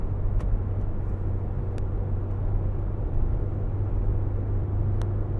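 A Ford Transit MS-RT van engine held at full throttle on the Nürburgring, a steady droning rumble with road and wind noise, heard from inside the cabin.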